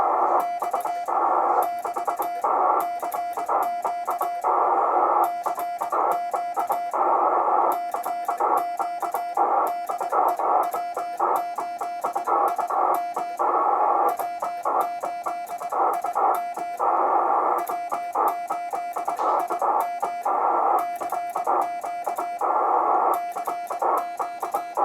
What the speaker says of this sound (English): a demonstration of sending Morse code